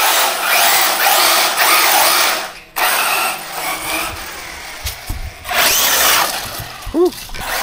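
An RC car running on a LiPo battery rips around front-yard racing laps, its electric motor whining in loud bursts that fade and return, with brief rattles between passes.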